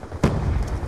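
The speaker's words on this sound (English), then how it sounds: "Toss and flash! Flash out!" A flashbang grenade detonates in the Black Ops 2 game, one sudden booming burst followed by a sustained roar that stays loud to the end, with no voices over it.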